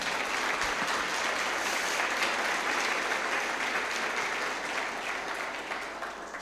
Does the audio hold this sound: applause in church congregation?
yes